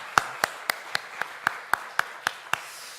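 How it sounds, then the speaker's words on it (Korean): A church congregation claps in steady unison after celebrating its youth and their teachers: about ten sharp, evenly spaced claps, crisp and close, with no talking over them. "우리 함께 축하와 또 감사의 격려의 박수 함께 올려드리겠습니다"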